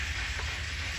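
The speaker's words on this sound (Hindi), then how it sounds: "पीछे आपको आवाज़ें आ रही हैं ना, जो मैं तेल बना रही हूँ।" Hot oil sizzles and fries steadily in a pan while spices are cooked, a continuous close hiss with no talk.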